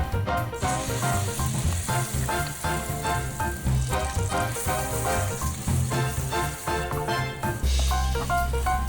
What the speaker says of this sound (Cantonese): 中火慢慢炒，炒到佢辣椒同埋油分開為止。